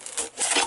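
An X-Acto blade slicing through the rounded rim of a milk carton, a short close scraping cut in two quick strokes.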